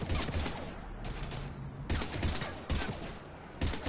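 Dense bursts of gunfire in Mass Effect 3 combat, four or five loud rapid volleys separated by brief lulls, close and harsh.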